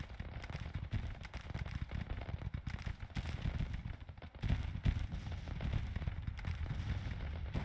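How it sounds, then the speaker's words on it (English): Guns of an army firing in Grand Tactician, a Civil War strategy game, heard as a steady crackle of many distant shots rolling together into a dense, continuous rattle. "our guns over here are firing"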